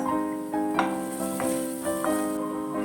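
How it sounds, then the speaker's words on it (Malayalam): Onions and green chillies frying in a pan and being mixed, a steady close sizzle with the periodic scrape of a stirring utensil, no voices. "എല്ലാം കൂടി നന്നായിട്ടൊന്ന് മിക്സ് ചെയ്തെടുക്കാം"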